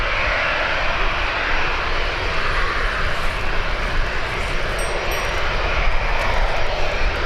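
Aircraft engines roar steadily at Birmingham Airport as a plane waits near the runway, a loud, continuous broadband drone that holds for the whole stretch with no talk over it.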